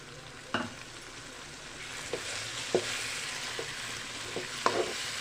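Tomato puree sizzles in a pan of fish curry, a steady frying hiss broken by several sharp clinks of a spoon stirring against the pan.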